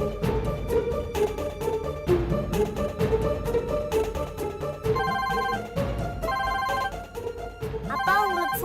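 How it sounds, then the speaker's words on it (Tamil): A telephone rings in a home with a repeating electronic melodic ringtone, loud and continuous with a steady rhythm, and no one speaking over it. "அப்பா உங்களுக்கு ஃபோன்."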